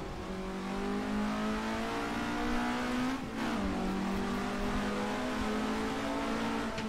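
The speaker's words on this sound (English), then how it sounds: "Car sounds pretty awesome. The external sounds of this." Modded race car engine in Assetto Corsa revs loudly and steadily near the listener, a sustained buzzing drone that dips briefly midway, then climbs back to full revs.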